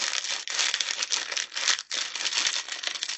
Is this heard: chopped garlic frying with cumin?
no